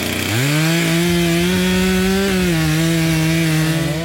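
A chainsaw fells a linden tree during landscape maintenance forestry work, its engine holding a loud, steady high drone after a quick rev-up, running continuously without any talk.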